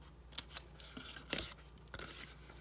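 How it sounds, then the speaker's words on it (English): Paper tabs are angle-cut with scissors for a Stampin' Up! mint box, producing several crisp snips at irregular intervals, close but quiet, with no voices. "And then this one, I'm just going to angle cut."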